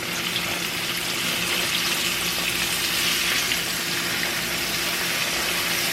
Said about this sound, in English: And I'm about to lay in my cube steaks.